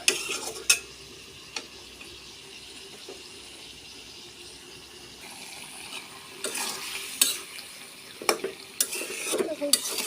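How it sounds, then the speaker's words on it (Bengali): Potatoes sautéing in a pan, with a steady low frying hiss and a few sharp scraping stirs that cluster toward the end, close and fairly loud, with no voices. "আলু অর্ধেক কষানি হয়ে গেছে"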